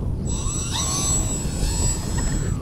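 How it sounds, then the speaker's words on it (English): A VQ Models Ju-52 tri-motor RC plane flies past with its three electric motors giving a steady whine and a high tone over rushing wind noise, holding at a moderate distance throughout. "So let's see how it flies."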